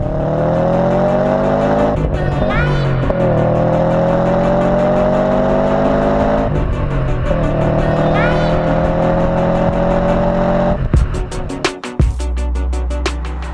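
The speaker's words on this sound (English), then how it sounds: "It still sounds like a classic Impreza. That boxer burble. It's such a charismatic engine." A loud Subaru Impreza 2-litre boxer engine burbles and revs, climbing in pitch through several gears with brief dips between shifts, then a rough, crackling lift-off near the end.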